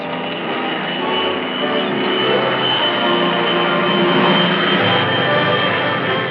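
Propeller aircraft engine of a 1960s US Army reconnaissance and observation plane in flight, a steady loud drone that holds evenly from start to end with no voices.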